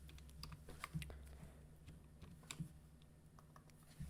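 Fast typing on a computer keyboard, quiet and close, with irregular bursts of key clicks over a low steady hum and no talking.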